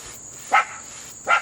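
Dogs barking at a distance outdoors near a deck, two short sharp barks about three-quarters of a second apart over a steady insect-like hum.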